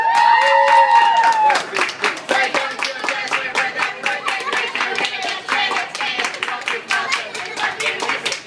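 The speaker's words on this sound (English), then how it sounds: "Can I get a round of applause?" Crowd clapping and cheering at a restaurant birthday celebration for a 14-year-old, dense applause building after a brief voice, sustained and lively with a rising whistle-like tone at the start.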